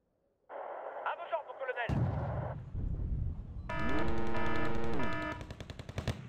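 Rocket artillery in the Wargame: Red Dragon strategy game: a burst of radio-like chatter, a heavy impact, then a loud sustained rippling salvo of rocket fire with a sweeping tone, followed by scattered blasts.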